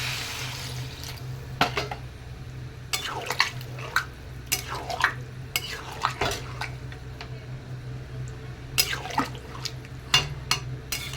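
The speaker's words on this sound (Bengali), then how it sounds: "এখন ঝোলের জন্য জল দিয়ে দেবো" Water poured into a pot of jackfruit and potato curry cooked down with spices, making a gravy; uneven splashing and pouring bursts recur over a steady low hum, with occasional clinks of a pan and no talking.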